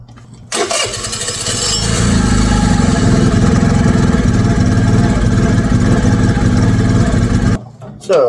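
An abandoned 49cc scooter engine starts up after a brief crank, then settles into a loud, steady, buzzing idle close by before cutting off near the end.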